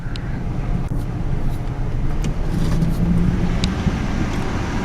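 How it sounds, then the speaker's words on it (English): A car driving along a rural road past canyon property, a steady low engine and road rumble heard from inside the vehicle, with occasional faint rattles. "we're driving along this road"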